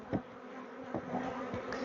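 Bees buzz steadily in a wildlife garden, a soft continuous hum with a few louder passes as individual insects fly close to the microphone, no voices.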